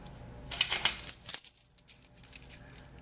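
A dime handled while a tattoo liner machine is set up for small needle groups, giving a bright metallic clink and jingle close by, with a sharp tap near the middle and quieter handling after, no talk.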